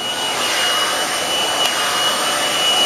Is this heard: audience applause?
no